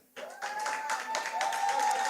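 Audience applause at a live inter-ministerial quiz event, a dense wash of clapping rising quickly after a brief quiet start and holding steady, with a sustained tone running underneath.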